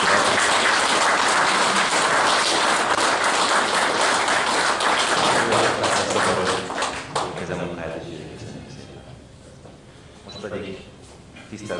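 Outdoor crowd applause honoring the sculptor at a Hungarian statue unveiling, a dense steady wash of clapping for about seven seconds that thins out and dies away, followed by quieter talk and background sound.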